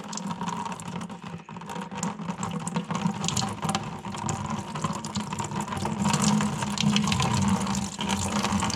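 Water-contaminated oil pouring out of an old John Deere A engine, a steady gushing, splashing stream that runs continuously and builds slightly louder toward the end.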